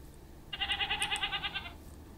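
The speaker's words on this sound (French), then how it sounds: "Mais moi ici, il y a une chèvre." A goat in the Minecraft video game gives a single wavering bleat lasting just over a second, clear and fairly close against quiet background hiss.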